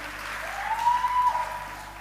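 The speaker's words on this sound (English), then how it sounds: "please keep your applause going for Aisha Safdar" Audience applause at the South Australia Australian of the Year Awards ceremony, a steady broad wash of clapping held at an even level for about two seconds, with a faint tone running through it.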